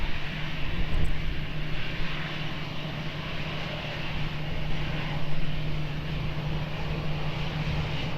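An airplane takes off from runway 20 at Lisbon Airport, a steady loud engine roar that holds throughout with a constant low hum underneath, heard from a distance with no talk.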